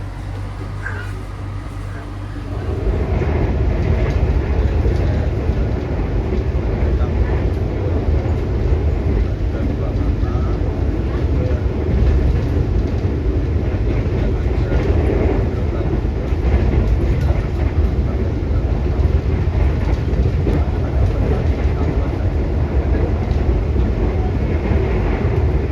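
Inside an economy coach of the KA Lodaya extra train from Solo to Bandung, a loud, steady rolling rumble with faint rail clatter continues throughout after a quieter opening few seconds.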